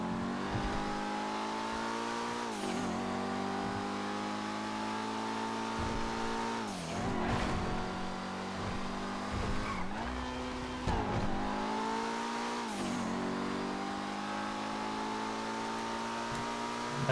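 A Coquette GSR sports car races in GTA V, engine droning loud and close with repeated upshifts and drops in pitch, tire squeal and skids breaking in every few seconds.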